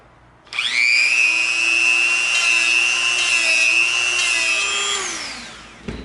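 A rotary tool with a rough bit grinds the edge of an EVA foam footwear piece, giving a loud, steady high-pitched whine for about five seconds that winds down at the end, with no talking.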